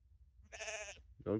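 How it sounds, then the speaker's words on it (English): A sheep on a fell in the Skiddaw range near Carl Side gives a nasal bleat close by, followed by a shorter, lower second call after a brief pause. "Got a sheep telling me off here."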